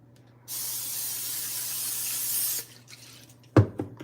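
One long hissing spray lasting about two seconds, close and fairly loud, followed by a few faint handling clunks and a sharp knock.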